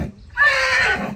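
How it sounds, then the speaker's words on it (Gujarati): A Marwari stallion gives a single loud, close whinny, a shrill, quavering call that rises sharply and holds for most of a second before trailing off. "ઘોડો"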